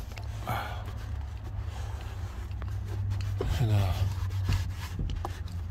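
A rag rubs and wipes through the creases, folds and corners inside a truck, a soft continuous rubbing close by over a low steady hum, with a few brief vocal sounds partway through.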